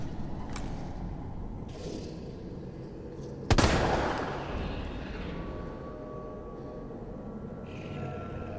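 Magnum gunfire in Resident Evil 3 Remake: a single loud, sharp shot rings out midway, with a short decaying tail over a steady rumbling game ambience.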